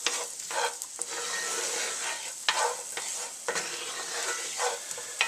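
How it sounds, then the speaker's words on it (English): Chopped onion fries in melted butter in a pan, giving a steady close sizzle with soft scraping as it is stirred around at intervals. "Let that onion get going real good, and stir around that butter"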